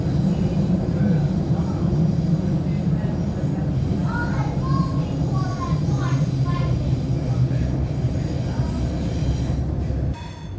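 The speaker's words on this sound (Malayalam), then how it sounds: "This train will terminate here." A train arrives at the Belair terminus with a loud continuous rumble of wheels on rails and faint squeals, while people speak quietly; the noise drops suddenly at the end.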